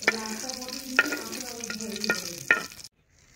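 Eggplant slices finishing frying in a pan, a close sizzle with several sharp scraping and stirring strokes of a utensil, then sudden quiet.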